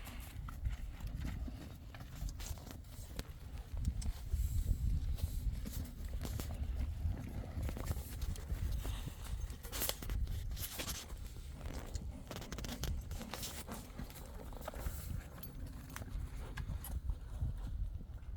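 A horse walking on the ground during a breaking session, its hooves falling in a soft, steady clip-clop rhythm, fairly faint and close, with occasional light rustling and no talk.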